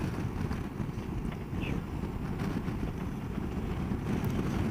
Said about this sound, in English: it's still quite windy